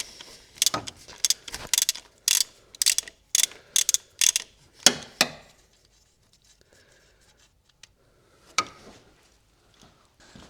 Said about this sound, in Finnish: nyt kun me avataan, niin tää kiristin aukeaa